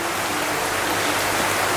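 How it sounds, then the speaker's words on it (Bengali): Heavy rain falls at dawn in a dense, steady, even hiss that does not let up and fills the whole stretch with no other sound. "ফজরের আগ থেকে এত বৃষ্টি হচ্ছে"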